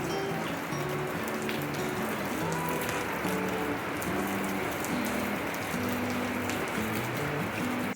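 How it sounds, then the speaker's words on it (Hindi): Steady rain falls outside a home in a hill village, a dense continuous patter on surfaces, with a faint repeating tonal pattern underneath. "तो बाहर हो रही है बारिश"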